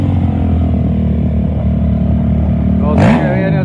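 Quad bikes at the start line of the Cabo 250 2024 off-road race, several engines idling loudly together before one revs hard and sharp near the end.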